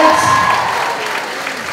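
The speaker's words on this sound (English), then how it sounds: "Give them a nice big round of applause." Audience at a university freshers' comedy hypnosis show gives a short burst of loud applause for the volunteers on stage, the clapping fading slightly as it ends.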